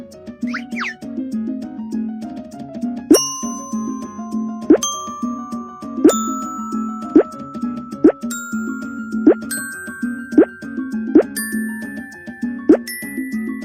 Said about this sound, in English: Tap here and listen to the sound of these bottles.